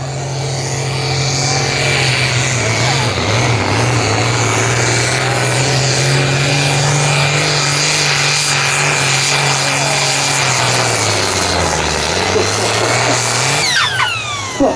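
A Sport Edition pulling tractor roars loud and continuous through a farm tractor pull run, its engine pitch holding steady, dipping and rising again near the end, with a faint whine over the heavy drone.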